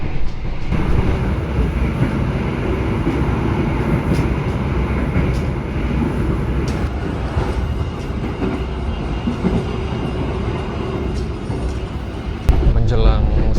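Ambarawa Express passenger train running on its rails, heard from inside the carriage as a steady, loud rumble and rolling hum with faint rattles and a sharp knock near the end.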